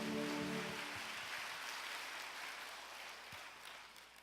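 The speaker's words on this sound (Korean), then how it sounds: "우리 하나님께 영광의 박수 올려드립시다." A congregation at a church lecture bursts into applause, loud at first and then gradually thinning and fading into a soft patter of scattered claps.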